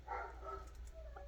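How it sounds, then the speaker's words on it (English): A dog barks somewhere outside, faint and distant beneath a steady low indoor hum, with a few soft yips over a short stretch and no talking. "God only knows what my dog's barking at out there"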